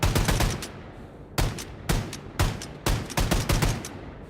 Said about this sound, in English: This is automatic double barrel shotgun.